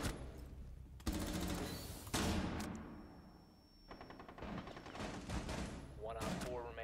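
Gunfire in the Rainbow Six Siege video game: sharp bursts of shots and rapid automatic fire, loud and close, broken by short quieter gaps, with a player's voice coming through.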